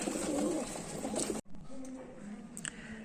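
A pair of kalshira pigeons, tied at neck and tail, coos softly at close range in short, low murmurs over a background hum.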